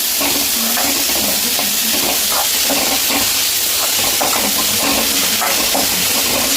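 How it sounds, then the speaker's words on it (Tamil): Chopped tomatoes sautéing in oil in a pan for a potato side dish, a loud, continuous hissing sizzle with steady bubbling crackle and light stirring, close and unbroken. "இப்போ வந்து நம்ம வெட்டி வச்ச தக்காளியும் சேர்த்துக்கலாம். தக்காளி நல்லா வதங்கட்டும்."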